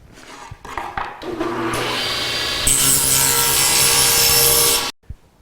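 A board is cut to length for wooden tray handles, with a few knocks as it is set up, then a loud, steady saw cut of several seconds that stops abruptly.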